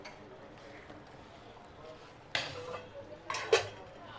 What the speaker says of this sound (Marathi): भांडे काढले का तू परत खेळायला